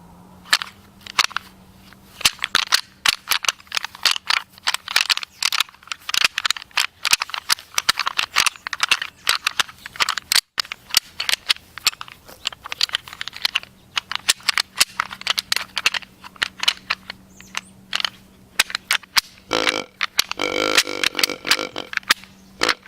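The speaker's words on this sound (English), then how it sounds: "I think I'm going to try some rattling this morning, see if I can pull something in close to me." Deer antlers rattled together to call in bucks during bow hunting, heard as close, rapid clacking and grinding bursts in an irregular rhythm that continue throughout, with a short rustling pause near the end.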